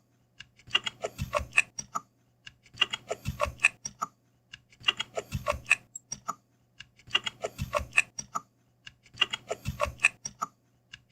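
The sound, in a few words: typing a password on a computer keyboard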